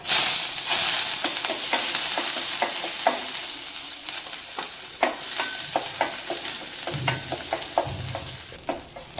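Onions with cloves sautéing in a pan, a steady close sizzle broken by frequent sharp scrapes and taps of a spoon against the pan, stirring strokes scattered throughout, with no talking.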